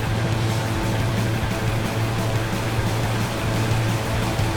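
Outboard engine on a boat on a river, heard as a steady low droning hum under a continuous broad wash of water and wind noise, with no clear rise or fall in revs and no talking.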